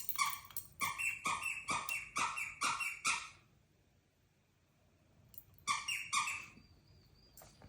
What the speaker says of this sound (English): you will catch one of my dogs squeaking a toy